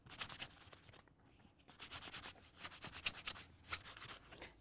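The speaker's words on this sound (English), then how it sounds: "we're just going to take our sanding block and try to rough up some of these areas" A sanding block lightly scuffs plastic in short, rapid back-and-forth strokes, soft and close, with a brief pause before the rubbing resumes.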